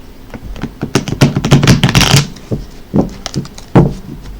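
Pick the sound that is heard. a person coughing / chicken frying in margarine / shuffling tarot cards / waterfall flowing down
shuffling tarot cards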